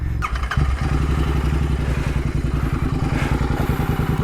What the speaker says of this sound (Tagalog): This is powered kasi by an air-cooled 650 parallel twin engine with a 270 degree crank.